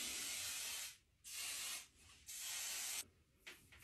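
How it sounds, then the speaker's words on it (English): Hairspray sprayed onto short hair during a roller set, heard as three firm, close hissing bursts of nearly a second each, separated by short pauses, with no voices. "I just need to get hairspray."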